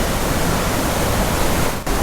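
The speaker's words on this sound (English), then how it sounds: "This is a lower section of the waterfall" A waterfall's lower section in remote Vancouver Island wilderness, a dense, unbroken roar of falling water heard close and loud, with one brief dip near the end and no voices.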